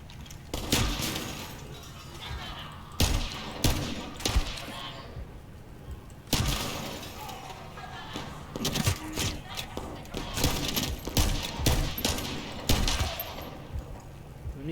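Game gunfire in the shooter The First Descendant, sharp bursts and single shots scattered through the stretch at moderate loudness, with a voice talking over some of it.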